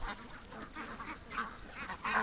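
A small flock of ducks quacks in short, scratchy bursts near their pen, moderately close but softer, the calls coming in an uneven, steady chatter.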